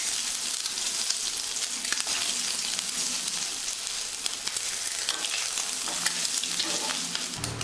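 Eggs coated in turmeric and chili fry in a pan with a loud, continuous hiss and crackle, steady throughout with scattered sharp pops and occasional stirring, and no voices.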